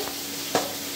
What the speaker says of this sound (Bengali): এখানে কাঁকড়া, ওখানে মুড়ো ভাজা হচ্ছে